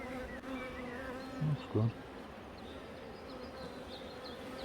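Honeybees buzzing steadily around a weak single-queen hive, a constant close drone throughout, with a brief low thump and a short spoken remark.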